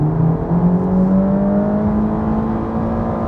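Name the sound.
Ferrari Roma exhaust note accelerating in race mode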